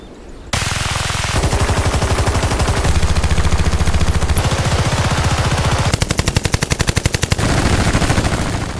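M60 machine gun firing in Bad Company 2, long loud sustained bursts of rapid heavy shots with a brief break before a final rattling stretch, punchy and close, no voices.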